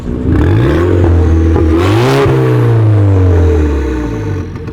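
A turbocharged Audi engine in a carbon-trimmed car revs hard and loud, the pitch climbing, dipping, then surging again in one long sustained run before easing off at the end.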